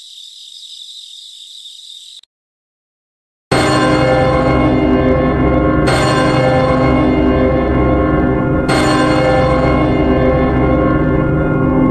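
A church bell rings loudly in strong, sustained peals that strike about every three seconds, following a short high chirping of insects and a brief silence.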